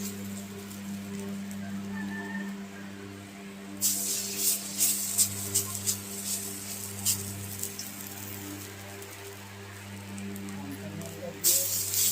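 Lau leaf fritters frying in oil give a soft, crackling spatter that swells into louder bursts of sizzling partway through, over a low steady hum.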